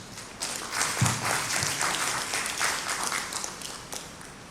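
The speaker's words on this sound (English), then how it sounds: "Another round of applause for the Director of ACENPEE" An audience at a university gathering on gender-based violence at Ahmadu Bello University gives a dense, steady round of applause that fills the whole stretch, with a few stronger claps standing out.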